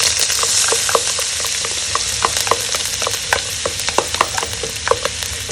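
Finely chopped garlic, ginger and green chillies fry in hot olive oil, a loud, steady sizzling hiss close up, with frequent sharp spatters and stirring clicks scattered throughout.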